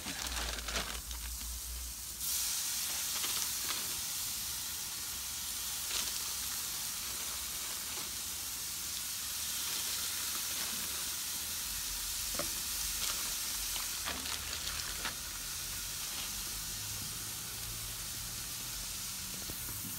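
Chicken seasoned with paprika and mesquite sizzles on a grill in a steady, loud, continuous hiss that fills the whole stretch, with occasional faint crackles and pops.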